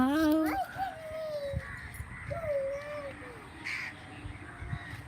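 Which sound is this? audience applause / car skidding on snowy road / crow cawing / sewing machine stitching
crow cawing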